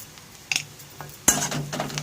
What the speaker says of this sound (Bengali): জিরার গুঁড়োটা দিয়ে ভালো করে মিশিয়ে নেব